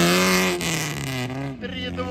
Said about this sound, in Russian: очень громкий выхлоп